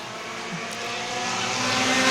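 Pro-4 Modified race cars at Star Speedway, a sustained engine roar that builds steadily louder as the cars approach, with no voices over it.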